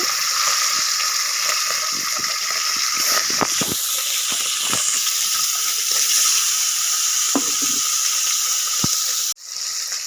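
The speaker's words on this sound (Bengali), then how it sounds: "মাছগুলোকে ভেজে নেব।" Bata fish fry in hot oil for a mustard curry, a loud steady hiss and crackle that runs nearly the whole time with occasional utensil taps, cutting off sharply at the end.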